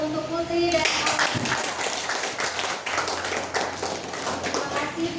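An audience of students gives applause for two presenters in a classroom, a sustained, dense round of clapping that starts abruptly after a brief spoken line and carries on steadily.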